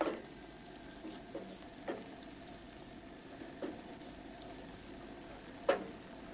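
Onions sizzle steadily in a very hot pan during Calabrian home cooking, the soft hiss broken every second or two by a spoon scraping and stirring, close and fairly quiet.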